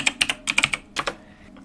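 Keys clatter on a computer keyboard while code is typed: quick bursts of crisp, close clicks in uneven clusters, then a short pause and a few final taps, with no voices.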